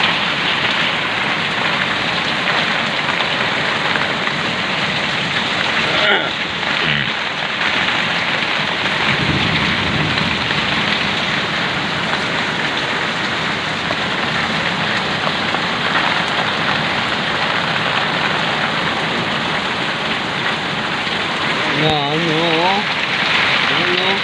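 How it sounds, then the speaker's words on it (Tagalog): Heavy rain pours in the Philippines with a steady, loud hiss of drops on surfaces. A low rumble of thunder rolls through partway in, and a faint voice is heard near the end. "Malakas ang ulan, no?"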